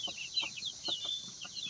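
Farmhouse chickens pecking at leaves, giving soft, scattered clucks and chirps at close range over a quiet background, with no one talking.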